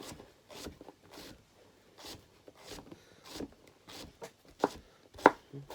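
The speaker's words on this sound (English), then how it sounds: "So here's the courgette. We'll do the same again. Down the middle again, and then chop." A knife chops courgette on a wooden board in irregular sharp knocks, close and clear, with a few louder cuts toward the end.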